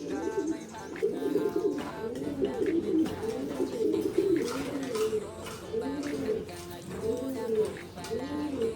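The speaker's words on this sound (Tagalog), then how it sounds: "Ngayon, kunin na natin mga ibon." Pigeons coo repeatedly in a loft, rhythmic rolling calls close by and overlapping, with a person talking over them throughout.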